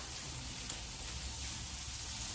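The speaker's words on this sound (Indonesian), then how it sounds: "panasin minyak di dalam wajan terus kita kasih sedikit uh, bawang merah" Shallots frying in hot oil in a wok, a steady, even sizzle that holds at moderate loudness throughout with no talking over it.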